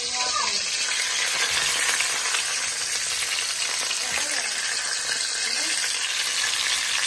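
Onion, bay leaf and Malabar spinach fry in a hot pan with a steady, loud, crackling sizzle that holds without pause, and a voice is faintly heard near the start.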